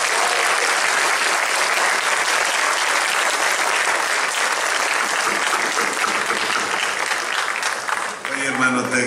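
A crowd at a posthumous tribute show applauds a singer, a loud, even wall of clapping that holds for about eight seconds before fading as a voice begins.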